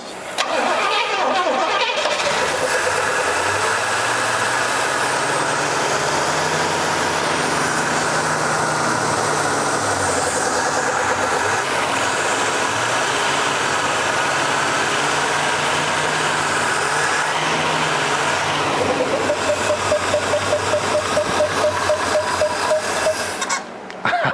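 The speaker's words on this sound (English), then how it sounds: "I think that's the power steering pump doing it." An old 1972 Pontiac engine cranks and starts after sitting for years, then runs roughly with a loud, sustained mechanical whine and rhythmic knocking from the power steering pump, close up and with no speech.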